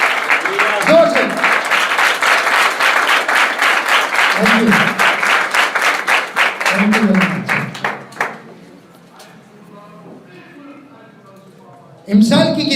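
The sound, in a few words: loud applause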